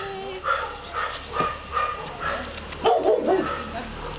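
A small dog gives short yips and whimpering barks close by, mixed with a person talking affectionately to it.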